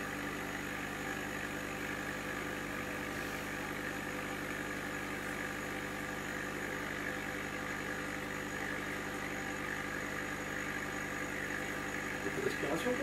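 Fume extraction on a K40 laser cutter gives a steady, even hum and whir that runs throughout. Brief voices and a few clicks come in near the end.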